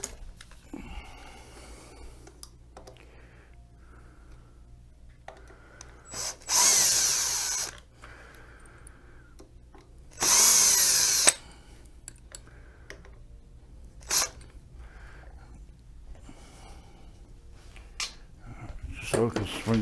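A power drill removes bolts from a Go Go Super Portable folding scooter during a carbon fiber repair, two loud whirring bursts of about a second each, close by, separated by quieter handling noise and occasional clicks.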